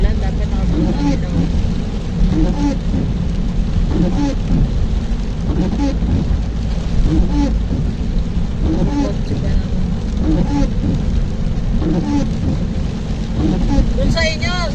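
Heavy rain pours steadily in Doha, Qatar, a dense constant wash heard from inside a car, with people talking throughout over the downpour.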